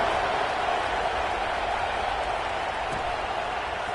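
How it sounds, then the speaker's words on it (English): Stadium crowd cheering in the football video game College Football 26 during a kickoff, a dense, even roar of noise held at one level throughout. "this crowd is feeling themselves after that last drive"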